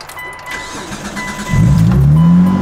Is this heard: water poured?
no